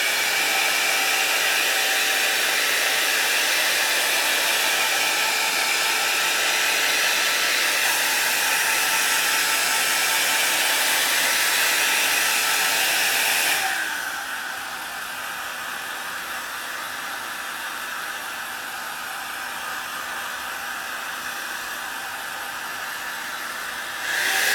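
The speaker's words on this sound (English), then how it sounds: "So out comes the hairdryer again" A hair dryer blows with a loud, steady whooshing hiss over an acrylic painting, then drops to a lower setting partway through and keeps running.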